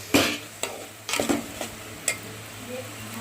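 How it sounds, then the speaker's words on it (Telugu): Tomatoes with salt being stirred in a pan, a spoon scraping and clinking against the metal in a few quick irregular strokes over a faint steady sizzle, close and fairly clear. "సాల్ట్ వేసుకొని బాగా కలిపి టమాటాలు మగ్గేంత వరకు బాగా తిప్పుకొని మోత పెట్టుకోండి"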